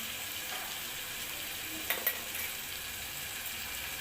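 Green chili, tomato and peas sauté in a pan with a steady, close sizzle, broken near the middle by a couple of brief clinks of a spoon.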